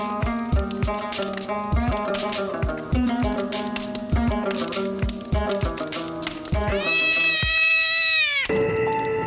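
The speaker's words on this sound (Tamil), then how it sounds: "நமாஸ் படிக்கும்போது ஒரு பூனை அழுறது கெட்ட சகுனமாச்சே." A cat cries and meows insistently in a tense horror drama scene, loud and close, with repeated yowls over a rattling, tapping background that ends in a long drawn-out wail.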